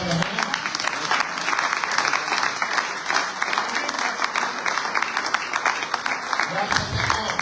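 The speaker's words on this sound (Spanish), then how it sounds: "¿Cuántos dan un aplauso al Señor esta tarde?" A church congregation applauds steadily and loudly during a Sunday afternoon service, a dense wash of clapping from many hands that continues throughout.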